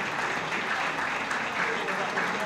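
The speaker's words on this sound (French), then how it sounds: "Si vous applaudissez encore, Billy." Audience applause at a televised report segment, a steady, dense wash of many hands clapping throughout, fairly loud and continuous with no clear pauses.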